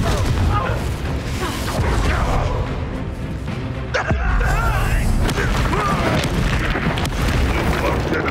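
A Confringo blasting spell going off in the fantasy action game Hogwarts Legacy, with loud booming explosions amid continuous combat noise and a voice speaking over it.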